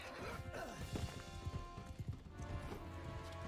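Horse hooves in the video game Mount & Blade II: Bannerlord, a rapid run of clip-clop hoofbeats with a few sharp impacts, moderately quiet under faint battle ambience.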